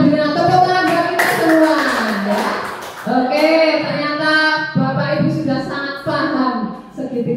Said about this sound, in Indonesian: bilang tepuk tangan buat kita semua ya